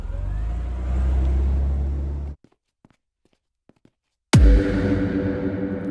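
A car engine runs at a steady hum and then drops to near silence with a few faint clicks. The engine then bursts back in loud and close as the car pulls away.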